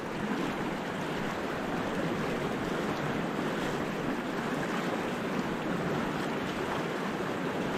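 The Savage River stream in February rushes steadily, a continuous broadband wash of flowing water close by with a little wind noise and no pauses.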